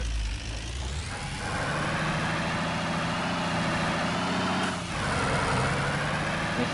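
A turbocharged car engine runs steadily at idle, a continuous close rumble with a brief dip in level partway through before settling back to the same even drone.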